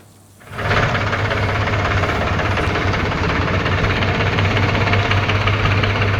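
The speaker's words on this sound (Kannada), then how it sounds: "ಬೈಕ್ ಮೂಲಕನೇ ರೌಂಡ್ಸ್ ಆಗ್ತಿರೋದು ಪೊಲೀಸರು." A police motorcycle on patrol rounds through Bagalkote city revs up after a brief quiet moment, then holds a loud, steady, throbbing engine note close by with no voices.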